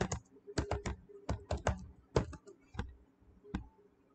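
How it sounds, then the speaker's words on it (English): Typing a search into Google on a computer keyboard: close, crisp key clicks in quick irregular bursts with short pauses, alone and without speech. "I simply type sound effect free download."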